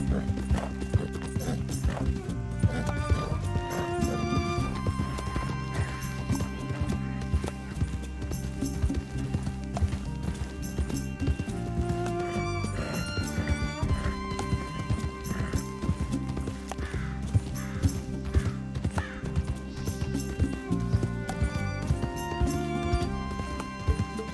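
A horse gallops in Red Dead Redemption 2, with a rapid, steady clip-clop of hooves carrying all the way through, layered with music and occasional whinnies.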